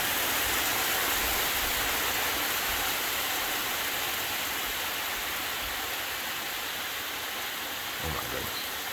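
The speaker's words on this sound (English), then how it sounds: "And now it's hailing." Hail falling outdoors in a sudden storm, a dense, steady roar of pelting ice on surfaces close by with no talk, and a brief thump near the end.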